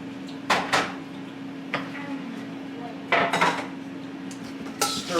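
Gluten-free buffalo wings being stirred with sauce in a bowl: a few sharp clinks and scrapes of utensil against the bowl at spaced intervals, over a steady low background hum, with no talking.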